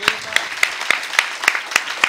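An audience at the closing of a Bourg-la-Reine show claps in a steady, rhythmic unison beat of sharp, loud claps spaced evenly apart.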